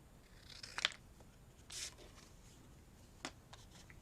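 Scissors snipping paper for a vintage-style folio, a few short quiet cuts and rustles spaced across a calm, near-silent background.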